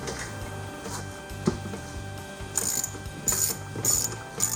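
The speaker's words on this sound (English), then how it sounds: "Pulling the screws out now." A ratchet backs 6mm screws out of a Volvo Penta 120S/130S saildrive, sounding as close rapid clicking runs in several short bursts with a faint background hum.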